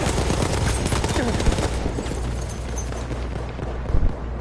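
Rapid submachine gun bursts rattle loudly and continuously in Battlefield 1, mixed with booming impacts and dense battlefield noise, close and harsh throughout.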